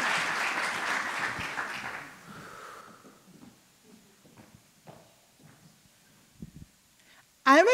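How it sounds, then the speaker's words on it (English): Audience applause for a contestant at a business plan competition final swells loudly at first, then thins out and fades to scattered quiet noises, ending with a sudden loud burst. "Please, round of applause."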